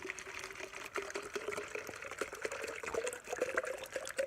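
Water is poured to top up a plant container by a pond, a steady close trickle and splash with a rising filling tone running throughout.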